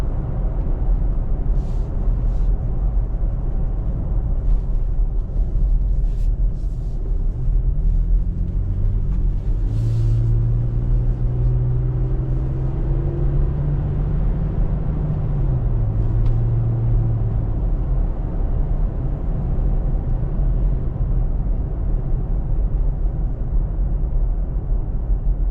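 A 2021 Toyota Tacoma TRD Off Road with a 3.5L V6 accelerates from inside the cab, a steady road rumble underneath as the engine note climbs and surges in pitch, then settles back, continuous and fairly loud.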